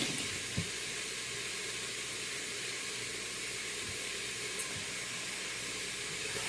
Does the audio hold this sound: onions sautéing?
yes